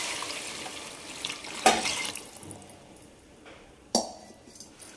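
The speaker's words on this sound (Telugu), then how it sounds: "ఇప్పుడు వాటర్ వేసేసుకోవాలి" Water is poured from a glass into a pot of tomato masala, making a brief splashing gush and sizzle, with clinks of the vessel partway through and again near the end; close and moderately loud, with no speech.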